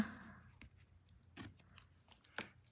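Ribbon scissors snipping through card-making materials in a quiet craft room, a few faint, brief cuts spaced roughly a second apart.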